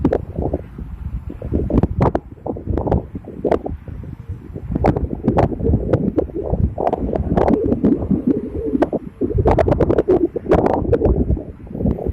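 Gusty wind buffets the microphone on an open field where large Isan chula kites are being flown, a continuous loud rumbling roar with sharp bursts throughout, no one speaking.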